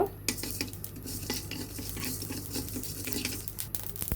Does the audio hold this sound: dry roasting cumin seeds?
yes